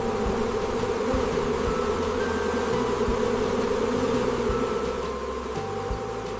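A dense swarm of Carniolan honeybees drones steadily and close, a continuous loud buzz with faint individual bees whining past.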